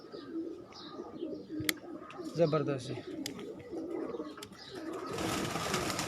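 Pigeons of a prized named breed on a rooftop loft give soft coos and a few chirps under steady background noise, while someone speaks briefly nearby.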